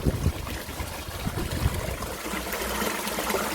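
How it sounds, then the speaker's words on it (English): Water from a garden koi pond waterfall splashing and trickling steadily on a windy day, close and continuous throughout, with no talking. "it's a bit windy today, so the waterfall's going all over the place"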